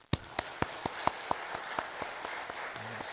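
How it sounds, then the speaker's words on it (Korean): A church congregation applauds during an Easter Sunday worship service: a sparse, evenly spaced run of about a dozen distinct claps in a roomy hall, with a short low hum near the end. "격려의 박수 한번 하겠습니다"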